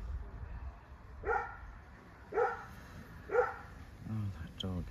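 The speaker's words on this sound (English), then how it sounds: "that dog is always barking" A dog barks three times at roughly one-second intervals, moderately loud and a little distant, followed by a couple of shorter, softer yips.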